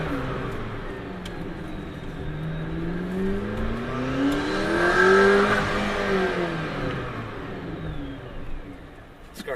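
A McLaren P1 engine revs up and back down in one sustained sweep, its tone rising to a loud peak near the middle and then falling, heard steadily and close without talk.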